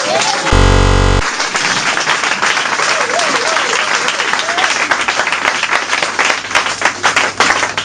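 Church congregation applauding loudly, a dense sustained wash of many clapping hands filling the room, with a short loud burst at the start and voices mixed underneath.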